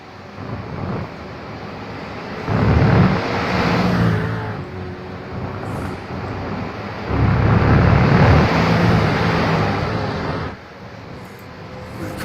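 V8 race cars roar down a long back straight on a circuit in two distinct waves, each engine note swelling loud and then fading as the cars pass, with wind noise buffeting the microphone in between.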